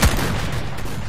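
A single loud gunshot with a sharp onset rings out in the S.T.A.L.K.E.R.: Clear Sky shooter game during a boar hunt, followed by a dense, sustained rumble.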